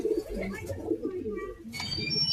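Pigeons cooing close by among a collection of pigeons kept for sale, several low throaty coos overlapping with soft chirps and shuffling.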